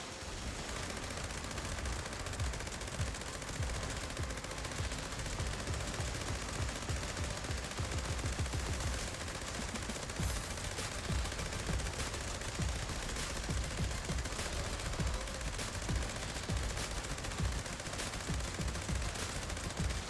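Sustained, dense gunfire from a gun in the video game Fallout 76, a steady stream of loud shots and bursts running the whole stretch with no talk over it.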